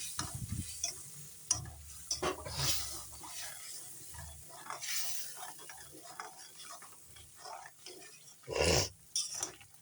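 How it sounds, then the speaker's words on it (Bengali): Paneer curry masala with a little water added being stirred in a pan, scraping and stirring strokes with a faint sizzle, several louder clatters of the spoon against the pan, no talking. "পরিমাণ মতো ভালো করে নেড়ে দিচ্ছি"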